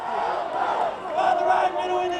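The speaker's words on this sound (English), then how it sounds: "there's some students from the Baylor side here with a megaphone" Baylor student section cheering at a college football game, a megaphone-led chant rising and falling in loose waves from a crowd at moderate distance, with no clear talk over it.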